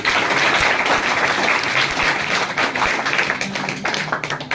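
Students in a physics coaching class burst into loud, dense clapping, a crowded roomful of hands beating steadily with a few sharper slaps standing out, fading slightly toward the end.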